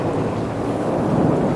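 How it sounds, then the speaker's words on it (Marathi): A night thunderstorm in a forest with heavy rain and lightning: a dense, continuous wash of pouring rain and low rumbling that holds steady throughout, with no voices. "एक रात्र अशी आली जेव्हा जंगलात वादळ आलं. जोराचा पाऊस, वीज, सगळीकडे अंधार."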